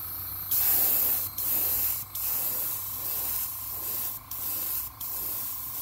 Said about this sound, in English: We'll go ahead and spray the back too.